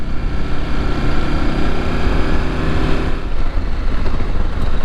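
A Norden 901 adventure motorcycle rides off-road at an OHV park, its engine a loud, steady close drone with slight rise and fall throughout.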